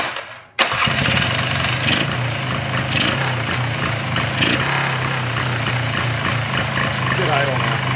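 A Polaris ATV engine being revived fires up and settles into a steady, loud idle with a constant low rumble, running on continuously after the start.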